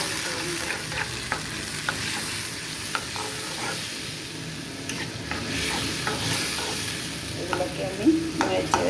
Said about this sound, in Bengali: এগুলোকে আমি নেড়ে কষিয়ে নেব।